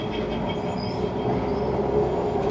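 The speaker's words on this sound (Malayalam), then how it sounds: "ട്രാം ഓടിക്കുന്നത് കാണാം നമുക്ക്. ഇതാ നോക്ക്" A Kolkata tram rolls along its rails with a steady, loud rumble and faint wheel squeal, heard up close and alone without any talk.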